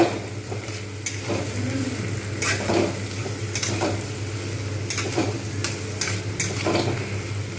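Rui fish curry masala with salt, turmeric and ginger-garlic paste being stirred and fried in a pan, a steady sizzle broken by repeated scraping strokes of a spatula against the metal.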